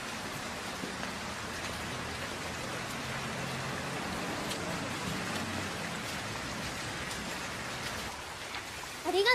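Steady, dense rain falls close by in a Japanese romance film scene, a continuous even hiss with scattered drop patter and no voices, ending with a brief louder bump.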